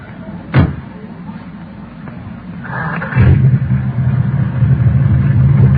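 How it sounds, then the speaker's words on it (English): An old jalopy's engine starts up with a low, steady mid-pitched rumble that holds on to the end, after an earlier thump like a door closing, all fairly near and with no voices over it. "the engine sounds nice, doesn't it?"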